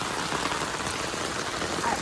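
Steady rain pours down during a storm over a flooded area with water about an inch deep, a dense, even hiss of drops hitting wet surfaces throughout, with no voices.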